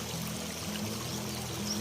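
Babbling river water in a Uttarakhand forest, a steady broadband rush of flowing stream, continuous and fairly close, with no talking.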